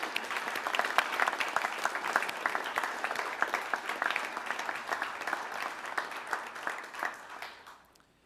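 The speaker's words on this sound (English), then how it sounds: "Let's give them another round of applause" Audience applause fills a high school prize-giving hall, a dense, steady clatter of many clapping hands that carries on evenly before thinning and fading out near the end.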